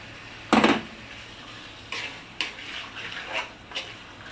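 Chicken pieces and tomato are stirred in a cooking pot over spice-laden oil, a sharp sizzling splash at first followed by several softer scraping strokes against the pot, close and without talking.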